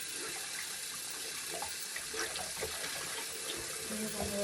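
Warm water runs from a tap in a steady splashing stream, close and continuous, with faint handling noises underneath.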